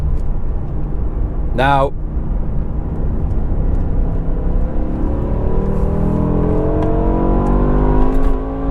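BMW M5 E60 with V10 engine accelerating hard on the Autobahn, a loud continuous engine roar with rising pitch sweeps as it climbs through the gears, under someone talking.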